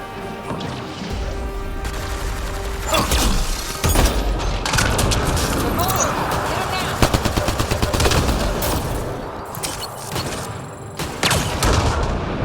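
Rapid gunfire in a shooter video game, sustained bursts and single shots with booms and impacts over a dense, loud battle mix, with a voice talking over parts of it.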